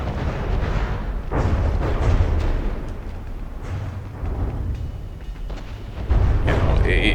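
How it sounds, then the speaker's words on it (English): Huge naval guns fire constant cannon broadsides in a video game battle, a dense, loud, rumbling barrage of booms rolling on without a break. "is very fun to see these kinds of Hollywood style constant cannon broadsides from these huge guns"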